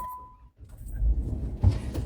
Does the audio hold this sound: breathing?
no